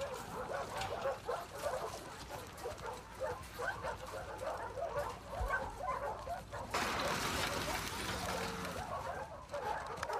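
A dog in The Last of Us Part II video game barks and yips in quick repeated bursts at moderate distance, then whimpers, and the sound shifts abruptly near the end.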